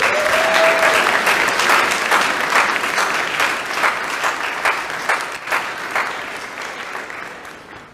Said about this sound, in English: give our crew members of the year another huge round of applause?